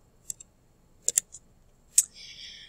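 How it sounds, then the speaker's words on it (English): Several sharp, dry camera shutter clicks in a classroom, scattered singly and in a quick pair, with a brief whirring after the last one and no talk over them. "Stop clicking the cameras."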